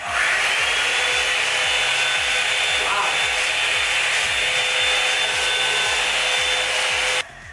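A Revlon paddle brush blow dryer roars steadily up close on natural hair with a whooshing airflow and rhythmic rubbing underneath, then cuts down abruptly near the end.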